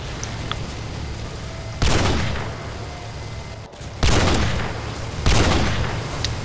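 Gunfire in a Call of Duty 4 zombies mod on a circus-themed map, three loud, harsh bursts of shots with short pauses between them, close and dominant, with no talking.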